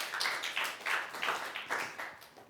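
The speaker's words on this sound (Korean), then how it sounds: "박수 한번 쳐주세요" Scattered hand clapping from a church congregation during a Sunday morning service, a short run of distinct claps that is fairly faint and sounds like a small group rather than a full room.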